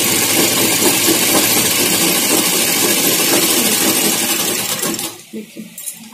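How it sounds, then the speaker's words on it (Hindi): A foot-pedal sewing machine runs a straight line of stitching with a loud, steady mechanical whir that fills about five seconds, then slows and trails off into a few faint clicks. "देखिए हमारी सिलाई कितनी सीधी चल रही है।"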